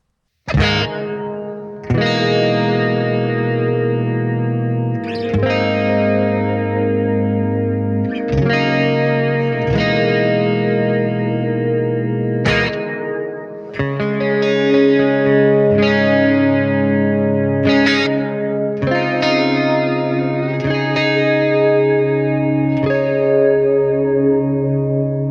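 Electric guitar chords through a mini amp's cathedral reverb setting ring out one after another, each swelling into a long, washy reverb tail that lingers and blends into the next.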